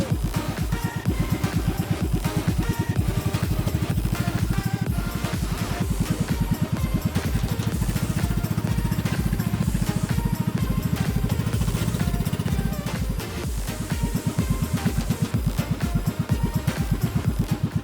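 A boat motor runs slowly on a river, a steady, loud, continuous rumble with a fine pulsing throb that swells louder partway through, with no talking.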